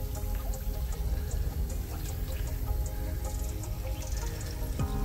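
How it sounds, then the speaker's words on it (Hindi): Raw desi chicken being washed with water outdoors among trees at a family village picnic, with a steady pouring, splashing stream of water running throughout, close and fairly loud, with faint birds in the background. "जो कि चिकन धो रहे"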